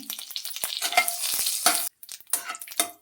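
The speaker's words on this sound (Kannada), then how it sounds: "ಜೀರಿಗೆ ಹೊಟ್ಟುತ್ತಿದೆ" Cumin seeds and black peppercorns sizzle and crackle in hot ghee in a pan, a dense, close frying hiss broken by sharp pops and stirring scrapes, with a brief pause near the end before the sizzling resumes.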